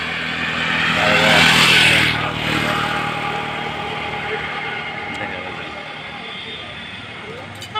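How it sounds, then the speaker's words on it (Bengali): At a petrol pump in the evening, a motorcycle or car roars past close by, then the engine noise fades into a low, steady traffic rumble while someone talks. "motor cycle"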